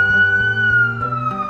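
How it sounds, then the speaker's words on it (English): A police siren wails steadily with a high sustained tone over low engine rumble, loud and close. "Police cars have sirens that make loud whistling sounds that you can hear from afar."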